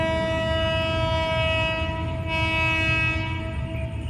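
Hitachi locomotive number 4522 hauling suburban train 372 into a station, a steady loud rumble with a sustained multi-tone horn ringing throughout, continuous and close.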